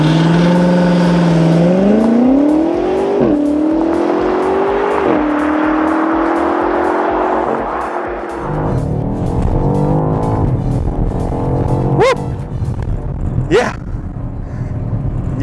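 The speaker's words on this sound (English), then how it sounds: "BMW X6M Competition launch control." A 2021 BMW X6M Competition launches hard under launch control, engine roaring loud and close as it climbs steadily through the revs, with sharp gear-change dips and a rising whine before the note settles into a steady rumble.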